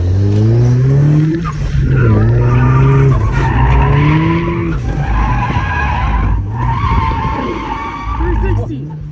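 A boosted Mazda Miata drifting, its engine revving hard and falling away while the tires skid and squeal loudly in repeated slides close to the microphone.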